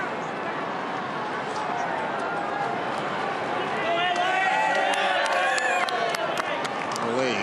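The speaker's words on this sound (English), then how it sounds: "Sort of muted applause, Brooks." Stadium crowd at an Australian football match giving muted applause and murmuring, a broad steady roar with scattered claps, under a commentator's voice.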